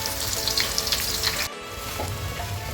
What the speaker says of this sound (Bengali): পেঁয়াজটা আমার খুব ভালো করে ভাজতে হবে।